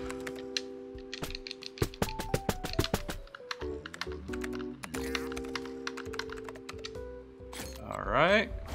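Rapid clicky keyboard typing from the video game Battletoads, a string of sharp taps over sustained synth tones and game music, with a voice speaking.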